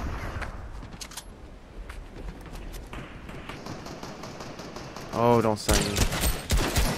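A shotgun fires repeatedly in a Fortnite-style zero-build battle game: sharp, rapid cracks spread across the stretch, growing denser and louder near the end, while a player talks over the shooting.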